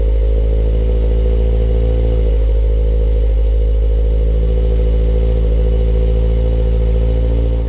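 Steady idle rumble from a 2023 Toyota GR86 6-speed through its Gazoo Racing Performance Dual Exhaust, a loud, deep, even drone that holds for several seconds with a slight dip partway through.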